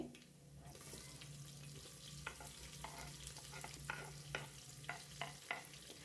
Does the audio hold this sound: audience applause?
no